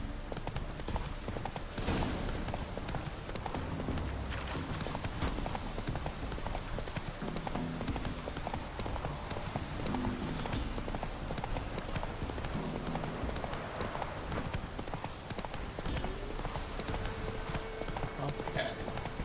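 Galloping horse hooves in a video game, a steady rapid clip-clop held throughout over a dense wash of game music and ambience, with brief talk at times.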